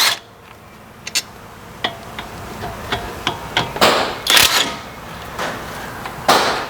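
Budget cordless impact wrench spinning off brake caliper bolts, a series of short sharp rattling bursts with a few louder, longer hammering runs near the end, close by and without talk.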